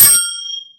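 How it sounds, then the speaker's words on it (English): A single bright bell ding rings out sharply, then its high metallic tones fade away within under a second, loud and alone. "You gotta ring that bell!"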